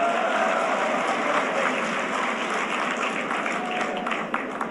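Applause from a crowd at a Madhya Pradesh chief minister's farmers' welfare rally, a steady dense wash of clapping that keeps going throughout.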